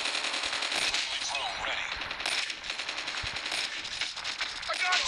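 Loud, rapid automatic gunfire from Call of Duty multiplayer crackles in dense, overlapping bursts for the whole stretch, with sharper single shots mixed in and a voice faintly present underneath.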